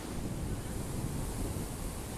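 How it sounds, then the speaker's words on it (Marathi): The flooded Godavari river at Panchavati, Nashik, rushes as a broad, steady roar of churning water and waves, heard from a bridge with wind buffeting the microphone throughout. "बघा पाण्याच्या लाटा किती चालले"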